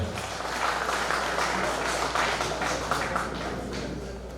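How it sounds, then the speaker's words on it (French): Steady, dense applause for the Lord from a gathering at a patriarch's life celebration in the U.S. fills the room, even and sustained, with faint voices mixed in. "Applaudissez très fort pour le Seigneur."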